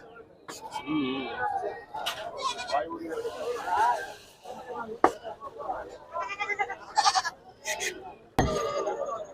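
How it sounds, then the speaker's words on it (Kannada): Goats bleat repeatedly amid a busy crowd at a goat market in Chitradurga, with people talking and clinking sounds close by. "ಇದು ಮೇಕೆನಾ"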